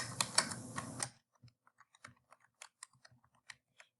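Typing on a computer keyboard: after a brief louder clatter, sparse individual keystrokes tick out irregularly, close and crisp against near silence.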